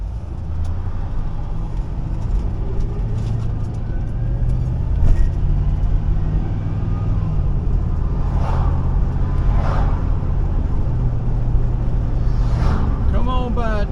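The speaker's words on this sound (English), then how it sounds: "We got another Dodge truck." Road traffic on US Highway 41 near Ringgold, Georgia, heard from inside a moving vehicle as a Dodge truck drives by, a steady engine and tire rumble with a passing swell near the end.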